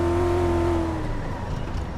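Car Mechanic Simulator 2014 car engine droning steadily and loud under a handbrake turn, with a tonal hum fading after the first second and rough tire noise continuing.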